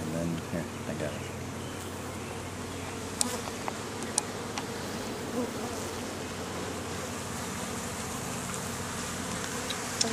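Honey bees buzz steadily around an open hive during an inspection, a dense continuous drone with occasional louder passes close by, with a person speaking faintly underneath.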